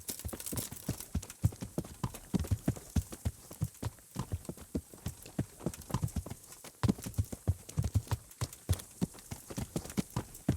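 Rapid, rhythmic hoofbeats of a galloping horse in the video game Kingdom Come: Deliverance, steady and close, continuing throughout with a busy background.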